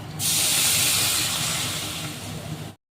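Cooked rice tipped into a hot pan with fried soybean chunks and boiled potato, bursting into a loud, steady hiss of sizzling that eases slightly before cutting off.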